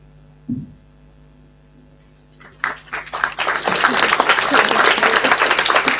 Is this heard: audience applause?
yes